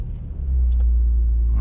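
A BMW Z3 engine starts, rising from a starter crank into a steady, deep idle rumble close by.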